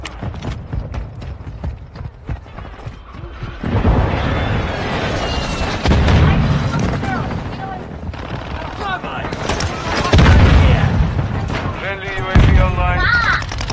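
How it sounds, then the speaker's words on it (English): Grenade launcher explosions in a shooter video game, several heavy booms over continuous gunfire and clattering, loud and busy, with people talking over the action. "Okay, grenade launcher."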